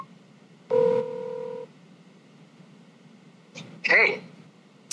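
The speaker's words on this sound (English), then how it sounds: "Of course, you can make a phone call." A Humane AI Pin wearable places a phone call. It gives a steady electronic dialing tone that lasts about a second, then a brief second electronic burst follows after a pause, with quiet room tone in between.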